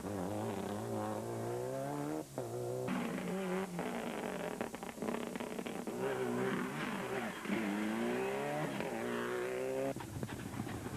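A Subaru rally car races flat out at a rallysprint on the IMS Punchestown circuit, its engine loud and close as it revs up and down through repeated gear changes and surges, with no talk over it.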